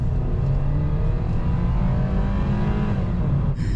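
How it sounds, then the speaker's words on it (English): A car engine roars loudly and steadily up close, a fast, sustained drone of speed with no voices. "This car is fast."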